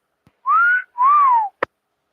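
A person whistles two sustained notes, the first rising and the second falling, clear and close, ending with a short click.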